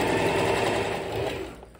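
A sewing machine runs steadily as it stitches a princess-seam blouse, giving a continuous close, loud mechanical whir with a fine rapid stitching rhythm that eases off slightly at the end.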